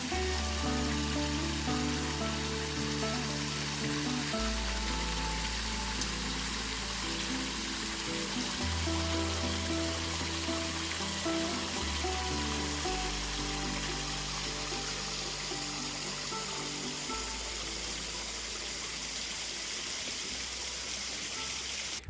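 A waterfall on a river on a 30-acre Tennessee property rushes in a steady, broad wash of falling water, continuous and fairly close, with a low rumble underneath and no voices.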